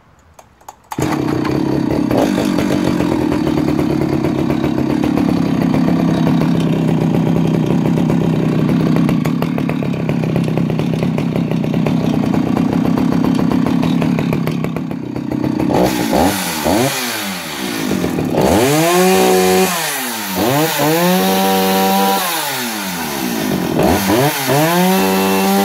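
A vintage Stihl 031AV 48cc chainsaw with a magnesium alloy body fires up and runs loud and close, a steady two-stroke drone that later breaks into repeated revving surges rising and falling in pitch.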